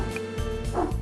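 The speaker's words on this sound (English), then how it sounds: "I'm sorry the doggies are barking." Dogs barking indoors, several quick yapping barks in close succession, fairly near and loud against a steady background of game music.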